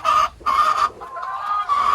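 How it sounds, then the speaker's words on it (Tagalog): Farm chickens clucking loudly and close by in repeated bursts with short pauses, with no other sounds alongside. "Ay, mga umiiyak na manok."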